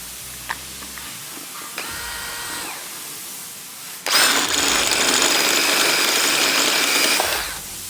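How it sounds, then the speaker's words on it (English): A few faint clicks and short whirs, then a loud, steady power drill grinds continuously for several seconds drilling out rivets on a Can-Am Defender MAX frame before stopping. "You can drill those two rivets out."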